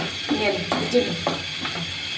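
Onion, green chili and garlic frying in oil in a pan, a steady sizzle with a few scraping stirs and utensil clicks spaced through it, close and moderately loud.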